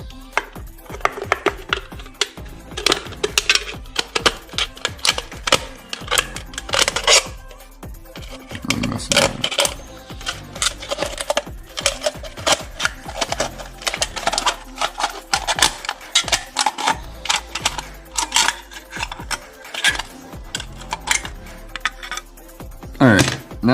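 Aluminium cans having their bottoms trimmed off for a penny can survival stove, a steady run of close, sharp cutting and scraping clicks in an irregular rhythm over most of the span.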